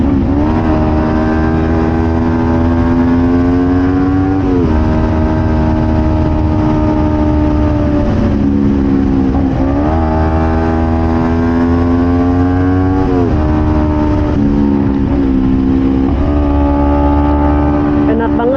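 Revved repeatedly, a Kawasaki Ninja 250 FI with a Prospeed Python aftermarket exhaust roars up and drops back in a series of loud, close throttle blips over a continuous engine drone.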